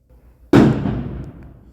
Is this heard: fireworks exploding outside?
yes